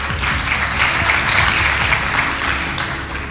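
An audience at the Zhurma Video Music Awards 2015 claps in sustained, dense applause that holds loud and even across the whole stretch, with a faint voice underneath.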